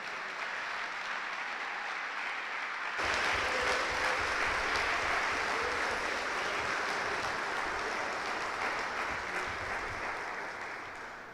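Congregation clapping in a church service, a sudden burst of applause that swells into a sustained crowd roar and stays steady, then slowly fades.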